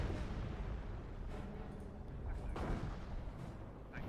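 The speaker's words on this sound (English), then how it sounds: "Panther hit by a huge howitzer barrage from the Brits there" A British howitzer barrage in Company of Heroes booms as a continuous low rumble of distant overlapping blasts, a few heavier thuds swelling out of the dense, muffled roar.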